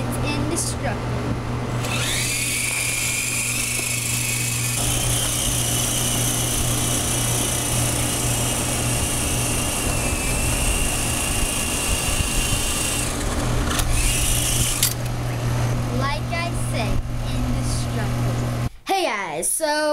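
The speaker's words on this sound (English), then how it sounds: "we got this toy helicopter in the mail" A Hercules toy helicopter's small electric motor whines steadily at close range for many seconds over a constant low hum, rising and shifting in pitch.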